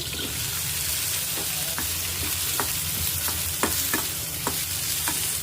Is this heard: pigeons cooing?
no